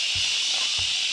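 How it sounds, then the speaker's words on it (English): A café espresso machine steam wand froths milk for a piccolo latte, giving a continuous airy hiss with two soft low bumps, close and moderately quiet, with no voices. "This is the sound of the froth."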